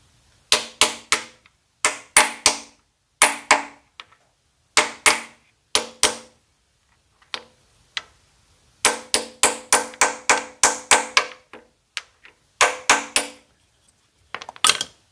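A hammer drives a new rear main seal into a 1995 Ford F150 engine, sharp metallic taps in quick bursts of three to five with short gaps between groups.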